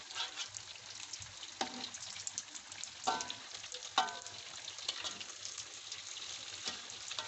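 Risol pastries frying in hot oil and being turned over, giving a steady faint sizzle and bubbling with a few sharper crackling bursts, no voices.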